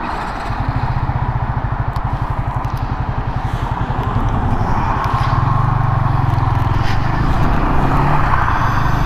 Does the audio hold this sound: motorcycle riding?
yes